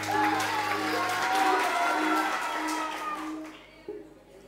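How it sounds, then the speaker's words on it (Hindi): Studio audience applause on a rural game show, a dense burst of clapping that swells early, holds steady, then thins and fades toward the end, with music or voices faintly underneath. "इनकी फ्रेश तालियां जी।"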